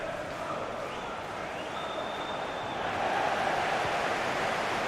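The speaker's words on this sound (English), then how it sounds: "Plenty of cheering from the Chelsea support" Chelsea supporters cheer in a FIFA 19 Champions League quarter-final first leg against Manchester United: a steady, dense stadium crowd roar that swells a little louder partway through, with no clear speech over it.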